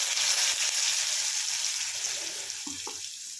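Dried red chillies sizzle in hot oil as a tempering for palak chochori, a Bengali spinach dish. Steady close frying hiss runs throughout with a few brief clinks from a stirring utensil.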